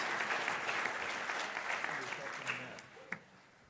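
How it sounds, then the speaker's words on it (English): A Rotary club audience claps for Paul Harris Fellows, a quiet round of applause that thins and fades toward the end as a voice begins speaking over it. "let's give one final round of applause"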